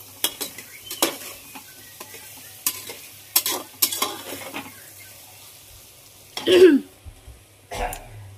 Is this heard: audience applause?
no